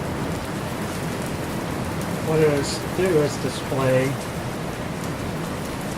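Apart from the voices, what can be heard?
rain falling outside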